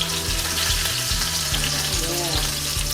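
Breaded chicken for parmigiana sizzles and crackles steadily in a hot pan as its crust crisps, a close, continuous frying hiss with a low rhythmic hum beneath.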